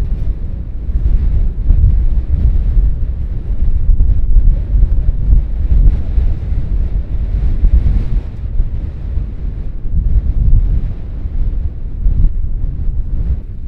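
Strong wind at a remote loch in the Scottish mountains roars steadily against the microphone in loud, rushing low gusts for the whole stretch, with no one speaking.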